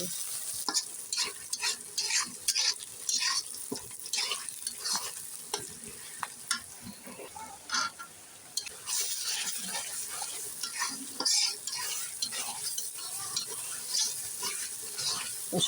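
Bay leaf and garlic paste frying in a pan, repeated spatula scrapes and knocks against the metal over a steady background sizzle, close and clear, with no talk.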